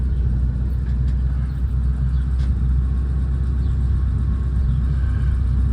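Continuous low engine rumble from a truck approaching along the road, steady and fairly loud throughout.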